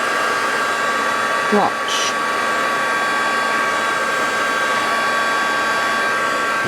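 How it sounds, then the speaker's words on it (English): A heat gun blows hot air steadily while melting plastic into shape for a miniature boating shack model, a constant close whooshing drone with a brief spoken word partway through. "Get your heat gun."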